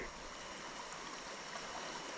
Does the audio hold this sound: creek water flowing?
yes